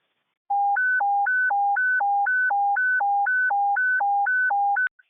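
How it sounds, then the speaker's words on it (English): A loud two-tone fire radio evacuation alert alternates high and low in a steady, rapid rhythm for several seconds, then cuts off abruptly. "Frederick, go ahead and hit the evacuation tones, please."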